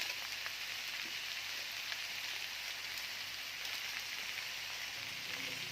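Maggi noodles with vegetables, cumin powder and Maggi masala frying in a pan, giving a steady, dense sizzle that holds at an even level throughout with no talk.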